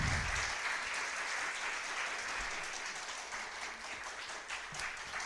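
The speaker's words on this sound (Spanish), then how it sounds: "Dale un fuerte aplauso a Dios" A church congregation applauding during a sermon, a continuous wash of many hands clapping at moderate distance, holding steady for several seconds with no talk over it.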